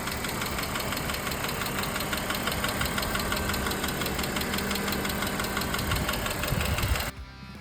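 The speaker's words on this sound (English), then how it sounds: "I noticed a bit of a ticking noise in the motor." A running Ford Territory AWD engine with a steady, rapid mechanical ticking throughout, close and loud, cutting off abruptly near the end.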